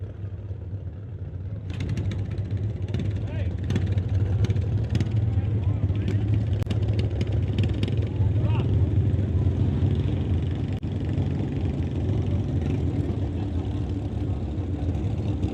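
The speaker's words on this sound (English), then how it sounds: "So here comes a couple more in the Doorslammer category." Doorslammer drag race cars idle near and far at a drag racing test day, a deep continuous rumble that swells after a quieter opening and holds steady with small revs, while a voice talks over it.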